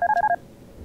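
A cell phone in the horror game Darkness Within gives a short electronic ring, a quick run of five bright warbling beeps lasting about a third of a second, close and clear, then silence.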